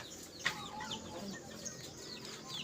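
Chickens cluck near and far around a poultry yard, with one sharp close squawk early on, a steady low background murmur and faint voices underneath.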